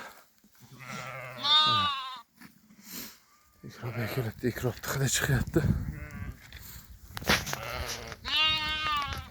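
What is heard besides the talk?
sheep and lambs bleating while being herded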